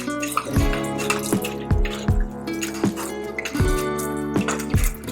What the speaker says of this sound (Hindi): ये हमारी कॉर्नफ्लावर की स्लरी हम इसके अंदर डाल रहे हैं।